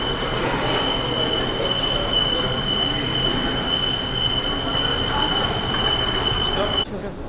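A Saint Petersburg metro train pulls into a station, with loud steady rumbling, rolling wheel noise and a long sustained high squeal throughout that ends abruptly near the finish.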